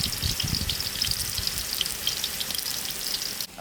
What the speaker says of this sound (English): I'm going to allow this onions to fry